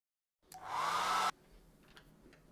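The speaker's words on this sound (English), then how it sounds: "I'll speed things up with a hairdryer." A hair dryer drying a watercolor painting switches on and blows with a steady whooshing whine for about a second, then cuts off, leaving faint room noise.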